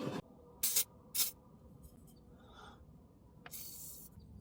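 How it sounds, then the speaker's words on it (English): PB Blaster penetrating lubricant sprays onto a steering column shaft of a Chevy Silverado or GMC Sierra pickup, with two short hissing bursts, then quiet handling noises and a final longer spray. "Now we can go ahead and spray some lubricant around this shaft,"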